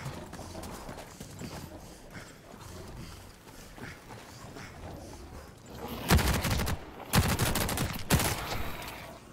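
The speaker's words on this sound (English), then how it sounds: "I'm pretty sure I was just being shot at" Gunfire in The Cycle: Frontier: after a murky stretch of game ambience, several sharp bursts of rapid automatic fire ring out loudly in the last few seconds.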